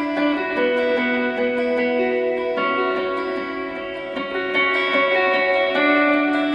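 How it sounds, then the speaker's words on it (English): An electric guitar is played through an echo effect for a song's verse, sustained chiming notes repeating in delayed layers, loud and close, with no talk over it. "And then we go to the echo sound, which is the verse."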